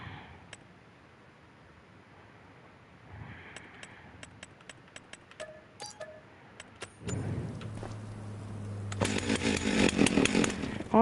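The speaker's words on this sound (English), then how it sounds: "buy me a chainsaw, and then I'll start cutting trees and whatnot." Sparse clicks and soft ticks give way to a loud, buzzing chainsaw revving and cutting trees in Farming Simulator, growing rougher and more intense toward the end.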